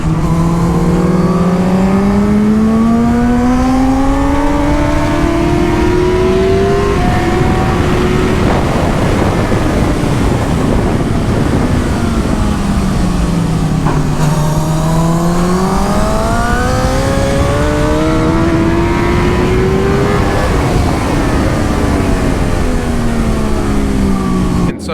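A budget motorcycle races a fast lap around a track, its engine loud and close, the pitch climbing through the gears, dropping on the brakes, then rising again, with no break in the roar.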